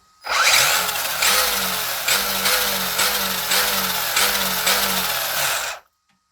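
Tekno SCT410.3 RC short course truck with a repaired electric motor accelerating, a loud buzzing whine in repeated surging bursts for about five seconds, with no other sound over it.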